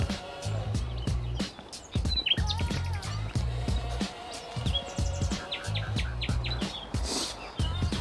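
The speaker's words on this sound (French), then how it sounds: "Avec les petits oiseaux qui chantonnent, magnifique." Small birds chirp and tweet on a hot day along a hillside path at Alyosha hill in Plovdiv, with steady bright calls throughout, mixed with footsteps and outdoor rustle.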